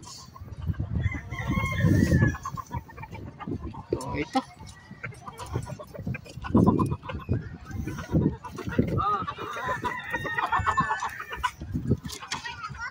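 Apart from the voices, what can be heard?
Texas chickens clucking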